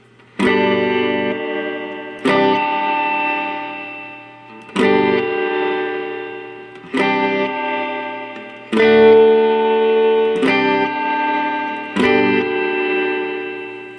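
Mooer Shimverb reverb pedal set to maximum decay on a guitar: six strummed chords ring out in a steady rhythm, each washing into a long, warbling reverb tail that sustains until the next strum, loud and close with no talking.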